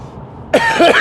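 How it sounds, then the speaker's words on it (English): A man coughs twice in quick succession, close and loud, following a quiet stretch of room tone at the start, with no speech over it. "I've still got this bloody cough"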